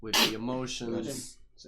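A single sharp sneeze bursts out at close range, overlapping someone talking in a casual conversation.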